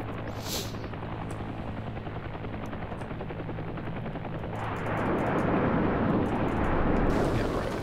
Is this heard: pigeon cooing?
no